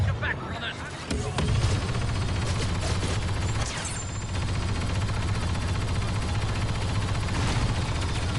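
Blaster gunfire in Star Wars Battlefront, with a dense, continuous battle din of shots and explosions throughout, loud and busy, while voices talk over it.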